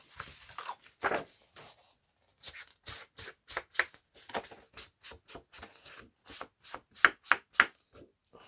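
Paper being cut with scissors for a baby photo album, a run of crisp separate snips with short pauses between them, close and fairly quiet, no talking.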